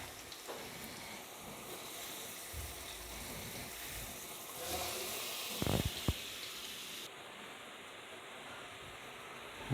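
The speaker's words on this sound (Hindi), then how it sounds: "मसाला हमारा तैयार हो गया है। अभी हम इसमें डालेंगे चिकन।" Chicken goes into a pan of sizzling masala for a creamy spinach curry, a soft, steady hiss with a few louder spatters and clatters midway, faint and close, no one talking.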